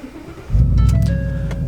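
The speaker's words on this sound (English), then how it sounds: "Listen to that V8." The supercharged V8 of a Roush Ford F-150 Raptor bursts from a quiet idle into a loud, deep roar that holds briefly and then eases off, close up, with no talking.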